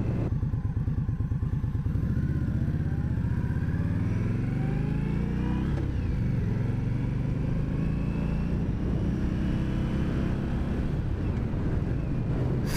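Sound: motorcycle riding in Las Vegas

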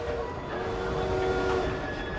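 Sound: train in the video game Assassin's Creed Syndicate

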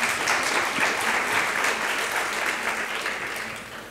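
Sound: audience applause for Emil Stenström

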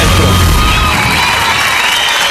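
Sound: audience cheering and applauding for contestant on Factor X Chile

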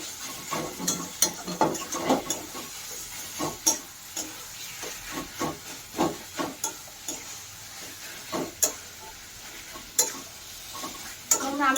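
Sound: stirring sugar into Ilish fish head and taro leaf curry in a pan

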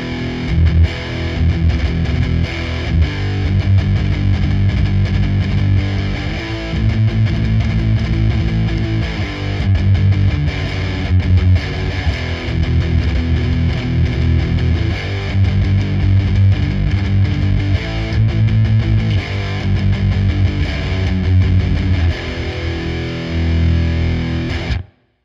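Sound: electric guitar through Stak Fx distortion pedal at full distortion

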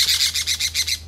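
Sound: pet parrot squawking

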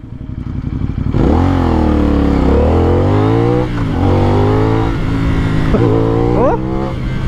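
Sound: CF Moto 450NK motorcycle engine and exhaust revving

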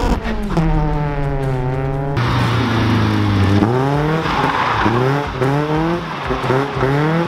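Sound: Mazda NB Miata burnout with tire squeal

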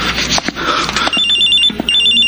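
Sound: cellphone ringing

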